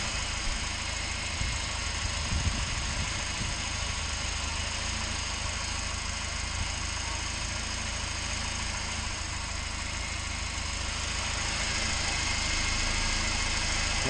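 A UAZ Patriot engine idles steadily for a long stretch, a constant low hum with faint mechanical ticking and no voices.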